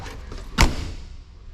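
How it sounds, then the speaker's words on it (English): A 2025 Airstream Pottery Barn 28RBQ travel trailer door swings shut with one solid, close thud, a single heavy latch impact that dies away quickly into quiet. "go ahead and close the door and tell me what you think."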